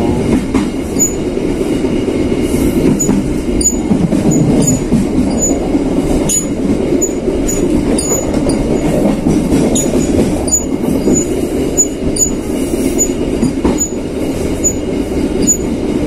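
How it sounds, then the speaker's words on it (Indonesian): A Tegal Ekspress passenger train in Indonesia rolls steadily along the rails with rhythmic clickety-clack and occasional wheel squeal, loud and close for the whole stretch, with no voices. "sebelah kanan ini ada rangkaian kereta api"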